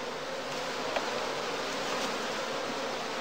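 Honey bees hum in a dense, continuous buzz at a Lüneburg straw skep hive during the afterswarm season, a close and steady drone with no voices.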